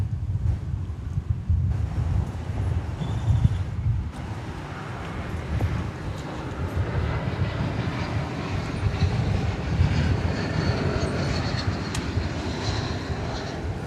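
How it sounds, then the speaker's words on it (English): An Airbus A380 airliner landing at DFW Airport: a broad, loud roar of jet engines and rushing air that swells and holds steadily at a distance, with no one talking. "The Peacock A380 congratulates the flight crew on a butter landing."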